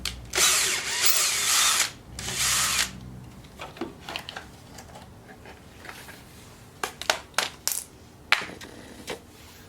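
Wrenches and power tools working on a Craftsman 2700 psi pressure washer with a 7 hp Briggs & Stratton engine: two loud bursts of a whirring drill or impact driver, then scattered metallic clinks and taps of parts and tools, close by.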